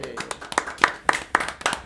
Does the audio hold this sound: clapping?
yes